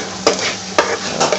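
Aubergine for Bangladeshi bortha rattles and scrapes in a frying pan being shaken, with a few sharp jolts and a soft sizzle underneath, close and fairly loud.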